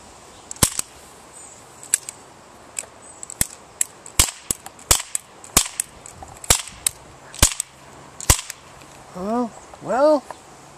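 A cap gun loaded with American West caps fires at plates, a string of about a dozen sharp, dry snapping cracks at irregular intervals, close and loud, with a few clicking, scraping handling sounds near the end.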